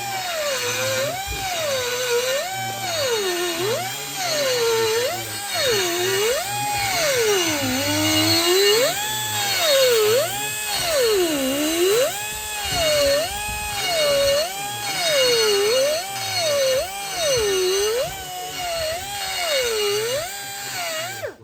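A power tool chamfers a metal part to clear internal welding on a custom rake build, its high whine rising and falling in repeated rhythmic strokes as the load changes, loud and close.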